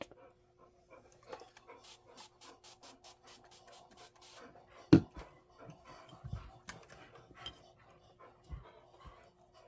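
Dogs pant heavily indoors in a quiet room. The panting comes as a fast, rhythmic run of breaths, with scattered rubbing and scratching noises and a few sharp thumps mixed in.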